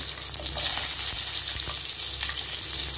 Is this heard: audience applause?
no